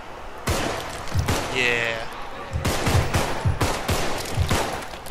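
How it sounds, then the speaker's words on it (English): Rapid gunfire in the zombie shooter game Contagion crackles in loud bursts over a steady noisy bed, with a player talking briefly and rough voices in the mix. "Shoot you guys down."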